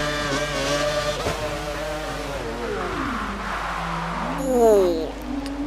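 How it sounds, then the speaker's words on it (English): Formula 1 race car in the F1 2012 video game, its engine note dropping sharply under heavy braking, with whining harmonics sliding down before revving back up, loud and close with other cars buzzing around it. "Some heavy braking, and Ollie has lost it."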